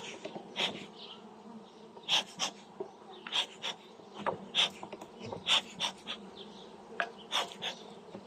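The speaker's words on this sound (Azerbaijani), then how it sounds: "Agresivləşməyə başladılar arılar." Aggressive honey bees buzz at a hive, with repeated close passes that swell and fade every second or so over a steady background hum.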